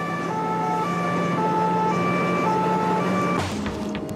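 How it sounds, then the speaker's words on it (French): A police siren wails steadily as the anti-crime brigade's car races toward a Renault Laguna target, the rising and falling tones holding strong before cutting out near the end over traffic noise. "Sirène hurlante, son équipe fonce sur l'objectif"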